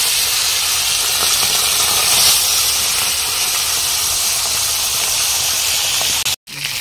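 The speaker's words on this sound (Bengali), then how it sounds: "তো মাছটা ছেড়ে দেবো ভাজার জন্য।" Rohu fish frying in a pan gives a loud, continuous hiss that holds steady for the whole stretch, broken only by a brief dropout near the end, with no talking.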